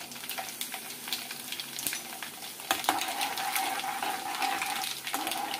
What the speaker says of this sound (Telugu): చక్కగా పోపు వేగిపోతుందండి